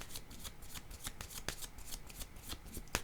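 Tarot cards being shuffled and drawn, a dense, close run of riffling and slapping card sounds with crisp flicks throughout, no talking.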